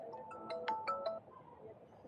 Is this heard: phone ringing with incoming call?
yes